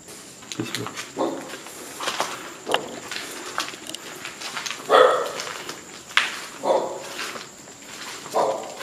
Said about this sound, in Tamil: நாய் வெளியே இருந்து கொலிக்குது